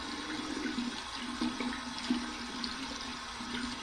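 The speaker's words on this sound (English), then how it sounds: "Running it under some cold water." Cold tap water runs steadily while something is rinsed under it at a sink, a continuous close splashing hiss with small fluctuations.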